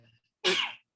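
One sharp, loud sneeze close by, a single burst after a moment of quiet.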